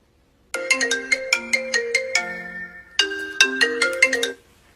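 A phone ringtone plays a loud, bright melodic pattern of quick tones, pausing briefly before repeating, with no voices over it.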